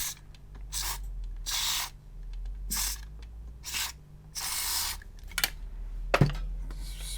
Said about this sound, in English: Spray it into any like holes you can see.